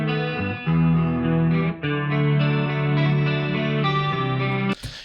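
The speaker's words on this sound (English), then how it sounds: "Here's the guitars." A clean electric guitar track, isolated, plays sustained chorus-treated chords and arpeggiated notes, loud and alone, with a brief pause and a sharp attack near the end.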